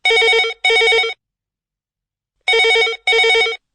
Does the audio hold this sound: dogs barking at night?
no